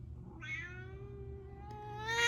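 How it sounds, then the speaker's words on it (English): A pet cat lets out a single drawn-out meow at close range, rising then tailing off, followed by a faint start of another cry in a quiet room. "That's my cat."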